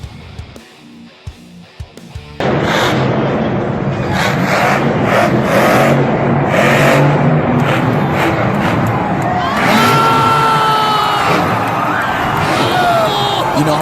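Loud crowd cheering and roaring at a monster truck show, starting abruptly after a quiet moment and swelling into sustained shouting, with the revving of a truck engine mixed into the din.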